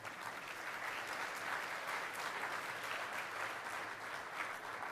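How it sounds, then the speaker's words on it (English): A conference audience at the LANPAC event in Hawaii gives a panel sustained applause, a dense, even wash of many hands clapping that holds steady for about five seconds with no speech over it. "Please give our panel another round of applause."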